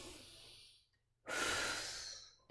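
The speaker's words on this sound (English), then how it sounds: "Breathe in through your nose." A single slow inhale through the nose, a soft airy hiss that fades out, then after a brief pause a louder, fuller breath that tapers off.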